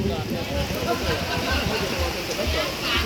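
Steady rain hisses and patters throughout, with muffled voices in the background.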